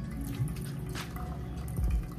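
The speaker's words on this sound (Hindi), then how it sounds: "अब हम इसको थोड़ा थोड़ा ठंडा पानी इसके ऊपर डाल के इसको वॉश कर लेंगे" Cold water is poured a little at a time over rasgulla dough to wash it, giving soft drips and trickling splashes close by over a faint background hum, with no speech.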